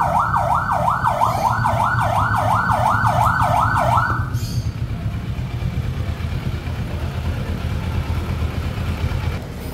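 A motorcycle-mounted emergency siren wails in fast repeating up-and-down sweeps for about four seconds, then cuts off, leaving a steady engine rumble and background noise.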